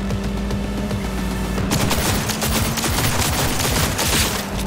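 Rapid, loud gunfire in the video game Cyberpunk 2077 comes as a dense, continuous fusillade that intensifies partway through, with no one speaking over it.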